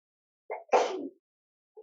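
One person sneezes up close: a short intake followed by a sudden burst, then quiet, indoors during an online chemistry class meeting.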